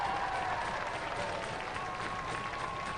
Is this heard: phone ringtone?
no